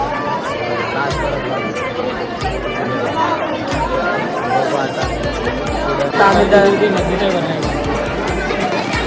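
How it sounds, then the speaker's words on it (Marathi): Dense crowd babble at the Ekvira temple, many voices chattering at once with footsteps and shuffling, steady and close throughout, with one nearby voice speaking briefly. "बघा किती गर्दी आहे."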